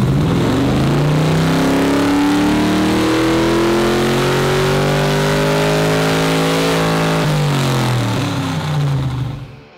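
A V8 engine in a 1969 Chevrolet Camaro RS/SS with an LS3 revs up steadily while driving on the street, its pitch climbing over several seconds before dropping back, loud and close with no talking.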